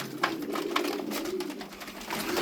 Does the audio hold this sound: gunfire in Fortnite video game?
no